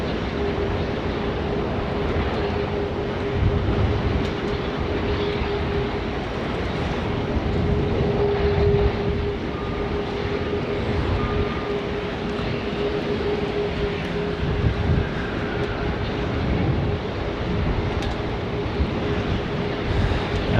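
A Qantas airliner touches down on runway 16 right at Sydney Airport, a steady, moderately loud broadband engine roar with a faint tonal whine running throughout and no voices.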